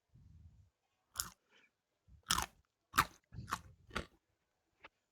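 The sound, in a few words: crunching chewing noises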